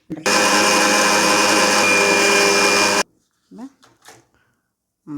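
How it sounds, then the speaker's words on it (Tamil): An electric mixer grinder whirs loudly and steadily for about three seconds while grinding idli powder, then stops abruptly and a person starts talking. "இன்னும் கொஞ்சம் அரைக்கணும்."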